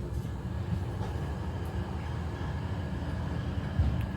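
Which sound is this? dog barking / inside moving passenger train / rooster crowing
inside moving passenger train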